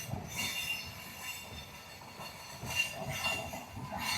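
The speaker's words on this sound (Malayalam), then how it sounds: "ഇതേ ട്രെയിൻ പോണ് ഇവിടെ" A train rolls past nearby, its wheels squealing and grinding on the rails in a steady metallic screech that swells briefly toward the end.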